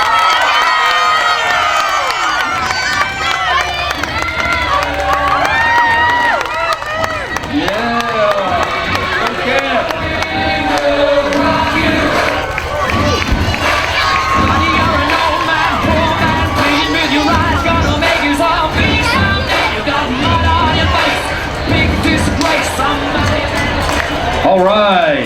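A loud crowd at a school pep event cheers and shouts for the Carver Wildcat middle school cheerleaders, with children's voices and some clapping forming a steady, dense roar that never lets up.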